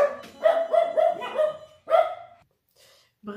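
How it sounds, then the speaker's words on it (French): Circus dogs bark in a quick run of sharp, mid-pitched barks, then one more bark after a brief gap, close and loud, followed by quiet and a faint trailing sound. "les chiens vont pas arrêter d'aboyer"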